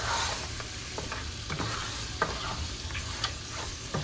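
Chopped onions and thyme sizzle loudly in a pot for Jamaican curry goat. A spoon stirs through them with soft repeated scrapes and taps over a dense, close frying hiss.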